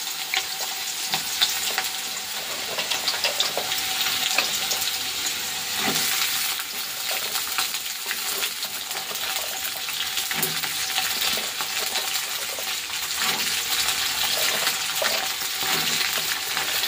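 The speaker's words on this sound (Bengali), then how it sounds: "আগে ভাজবো একটু, আলু আর সিমটা মিক্স করে দিয়ে ভাজবো।" Potatoes and flat beans mixed together fry in a pan with green and red chillies, a steady close sizzle running throughout with occasional scrapes and clinks of stirring.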